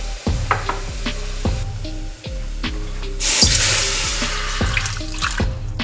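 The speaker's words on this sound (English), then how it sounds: "Add a little water." Water splashing into a pan of hot pepper sauce with seared garlic, loud and close, mixed with repeated clanks and stirring knocks in an irregular rhythm, then a brighter hissing pour toward the end.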